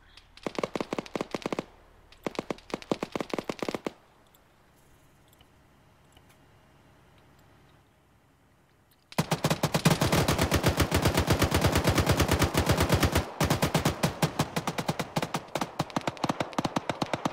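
Suppressive gunfire in the Arma 3 military game: short bursts of rapid shots, a quiet pause, then a long, loud, sustained automatic volley that ends abruptly and starts again.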